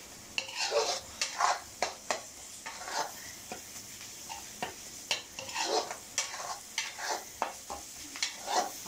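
Ground onion, tomato, ginger and garlic paste sizzles in a kadai, with a spoon scraping and clanking against the metal in repeated strokes, close and moderately loud, no talking.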